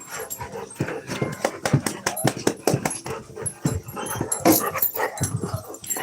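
Puppies whimpering, yelping and panting in quick, busy bursts close by, with soft voices and handling noise mixed in among the excited little cries.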